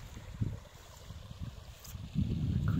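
Beaver Brook, a creek swollen with field runoff after a thunderstorm, rushes steadily close by as a low churning wash, buffeted by some wind noise on the microphone.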